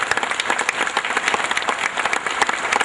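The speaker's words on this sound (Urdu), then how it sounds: "تمہاری تالیاں رکنی نہیں چاہیے" An audience claps at a laboratory inauguration, dense sustained applause, loud and close, filling the whole stretch with a busy patter of many hands and no break.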